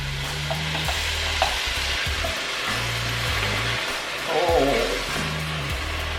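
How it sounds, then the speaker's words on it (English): Fire-roasted diced tomatoes hit a hot pan for shrimp creole and sizzle steadily, with stirring scrapes throughout and a louder burst near the end, while a voice talks over it. "now I'm going to add my fire roasted diced tomatoes."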